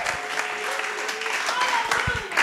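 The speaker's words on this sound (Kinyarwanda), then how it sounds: "Nagira ngo dukomere Imana amashyi cyane, tuvuze impundu tuyishimire" A church congregation applauds, sustained clapping running beneath a speaking voice throughout, with a few sharp individual claps standing out near the end.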